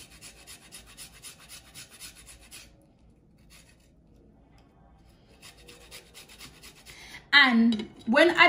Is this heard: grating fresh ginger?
yes